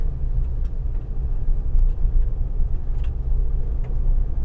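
All New Mitsubishi Triton Plus 2.4 Ultra four-door pickup driving on a dirt road, heard from inside as a steady low rumble of engine and tires with faint rattles and knocks over the drone.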